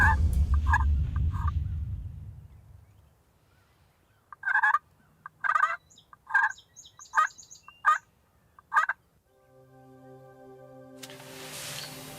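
Wild turkeys gobble in a burst of about six rapid, rough calls in the morning outdoors, moderately distant, with wind rumbling before and a faint hum afterward.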